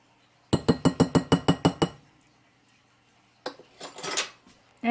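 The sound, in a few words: mixing dressing into chickpea salad in a bowl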